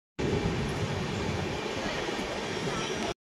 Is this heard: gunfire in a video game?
no